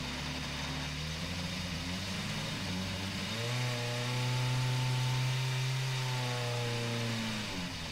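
Honda car in GT Sport whose engine buzzes thinly like a lawnmower, a steady nasal drone that rises in pitch around the middle and holds, alone with no talk.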